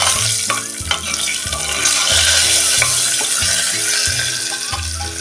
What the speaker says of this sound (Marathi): आता टाकूया त्या लसूण पाकळ्या ह्या आपण न ठेचता घेतलेल्या आहेत।